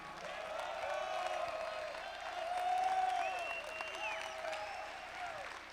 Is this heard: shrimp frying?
no